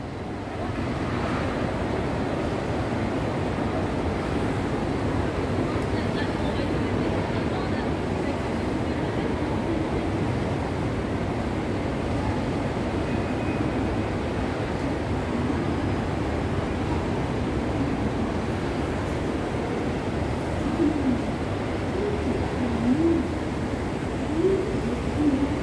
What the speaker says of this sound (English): Really big airport.